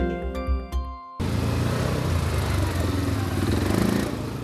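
Motorcycles at a charity motorcycle parade in the Várkert in Gyula, a loud continuous engine rumble from several bikes close by, after a brief opening of music-like tones.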